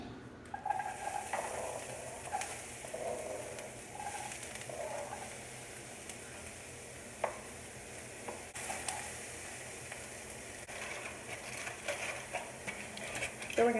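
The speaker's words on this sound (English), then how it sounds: "we're going to use the same pan for the ground beef and saute the onions a little bit" Chopped onions sauteing in a pan already used for ground beef, giving a soft, steady sizzle and frying crackle with occasional light stirring clicks, faint and close.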